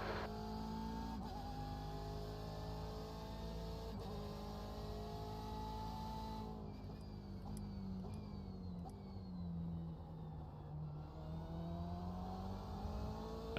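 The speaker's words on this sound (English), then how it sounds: "There's a faster car approaching." Race car engines in the iRacing simulator drone steadily with shifting pitch as a faster car approaches, gears changing with sweeping whines, moderately loud and continuous without talk.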